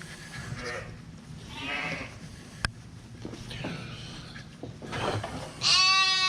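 A flock of sheep and lambs bleats outdoors, with several calls from different animals spread across the moment, some faint and distant, and one loud, close bleat at the end.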